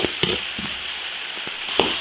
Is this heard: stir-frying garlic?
yes